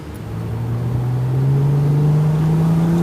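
A 2012 Chrysler 200S convertible with the Pentastar V6 pulls hard at full throttle without downshifting first, the engine note climbing steadily in pitch and loudness over a few seconds from inside the cabin.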